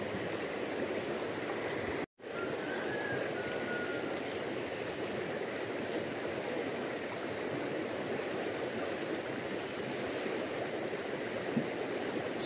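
Swift river current rushes steadily over a shallow stream spot, a continuous broadband wash of water close by, broken once by a brief cut, with no talk.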